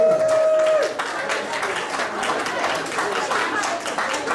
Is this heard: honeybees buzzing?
no